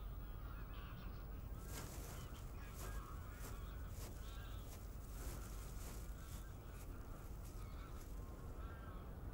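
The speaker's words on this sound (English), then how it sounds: "Thousands of geese invade the arable lands to feed on the cereals" A distant flock of thousands of geese feeding on cereal fields honks continuously, faint calls blending together over a steady wash of background noise.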